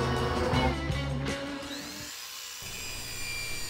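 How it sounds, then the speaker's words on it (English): A buffing pad on a power tool polishes stone dry under heavy pressure, giving a close, loud rotary whir with grinding texture. The pitch shifts as the load changes, and the sound runs continuously throughout. "I run the buff pad dry and I put a fair amount of pressure into it so I can build up some heat and help bring out the shine"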